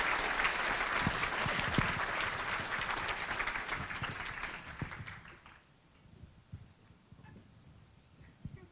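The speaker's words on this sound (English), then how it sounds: "how about a big round of applause for our panel?" Luncheon audience gives a panel a big round of applause at a public safety and community appreciation event, full sustained clapping that thins out and dies away after about five seconds into quiet room noise.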